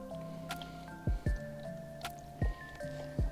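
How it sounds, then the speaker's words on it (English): A cloth soaked in acetone, a harsh nail polish remover, squishes and drips while being rubbed back and forth over a tyre sidewall; four sharp wet squelches stand out among softer drips, close and fairly quiet. "Now I will be soaking this cloth and rubbing over the area back and forth in different directions"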